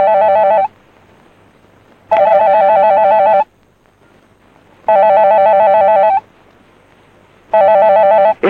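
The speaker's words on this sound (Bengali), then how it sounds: "এই নিন, রিং হচ্ছে।" A telephone rings in loud, regular bursts, each about a second and a half of buzzing electronic trill separated by pauses of similar length, four rings in all, clear and close with no talking.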